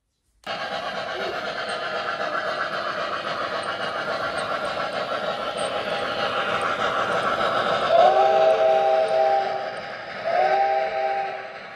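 A model MTH steam locomotive runs with a steady chuffing rumble, then sounds two whistle blasts near the end, close and fairly loud.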